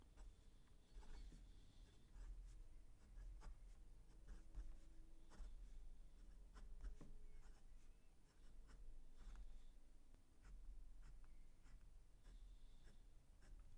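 A PenBBS 489 fountain pen with a fine nib writes on paper. The nib makes a faint, continuous scratching that rises in short irregular strokes over a quiet room background.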